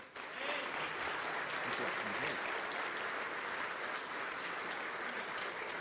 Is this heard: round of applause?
yes